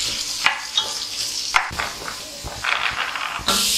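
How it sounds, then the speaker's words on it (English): Vegetables sizzle and fry in olive oil in a pan, with a few scraping stirs and clanks of a utensil punctuating the steady crackle. "now we're gonna start frying this for 5-6 minutes"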